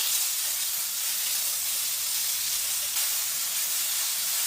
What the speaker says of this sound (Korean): 여기다가 고기 넣고 볶아주세요.